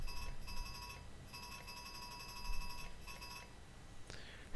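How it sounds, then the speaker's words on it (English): A train fire alarm in a train simulator game rings as an electronic bell in steady bursts with brief gaps, moderately loud, alone, with a sharp click at the very end. "So, we'll play about with the fire alarm again."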